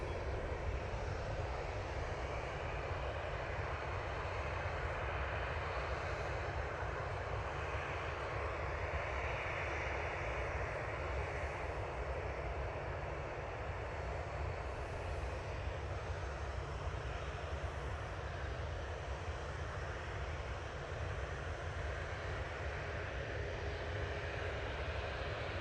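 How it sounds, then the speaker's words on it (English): A Ryanair Boeing 737-800 with split scimitar winglets departs Manchester Airport for Barcelona, a faint, continuous far-off engine rumble that stays even and unbroken throughout, with no talk. "next out will be the Ryanair going to Barcelona"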